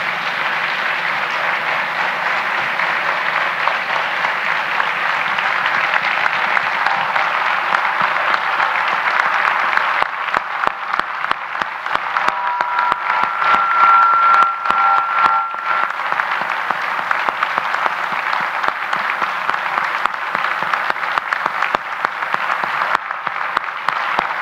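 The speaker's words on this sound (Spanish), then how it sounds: "Un minuto de aplausos mejor." A lecture audience applauding for a full minute in tribute to historians, a sustained, even roar of many hands clapping, loud and unbroken, with no speech over it.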